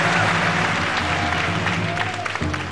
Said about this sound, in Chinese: 我为你们特别特别掌声鼓励